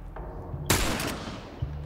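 Gunfire in The Last of Us video game: a single sharp, loud shot with a burst of noise, followed by a smaller crack near the end, over a low game background hum.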